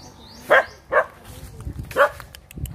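A dog barks three times close by on Pooh Island in Bohol, short sharp yaps spaced irregularly, with faint low rustling between them.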